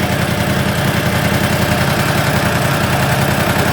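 A new Yamaha R1M motorcycle engine idles after its first oil service, a close, loud, continuous low rumble with an even, throbbing pulse throughout.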